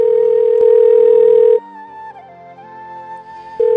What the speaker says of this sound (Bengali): রিং হচ্ছে, কিন্তু মেঘ ফোন ধরলো না